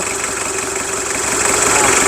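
A 2008 pickup truck's diesel engine, code CM40, idles steadily nearby, a low continuous rumble with a faint knocking rhythm and slight vibration, no one talking.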